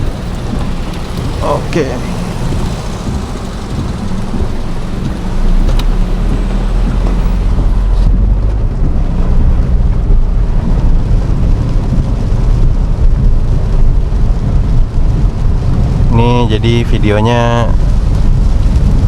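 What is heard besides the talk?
heavy rain and thunder while driving in a car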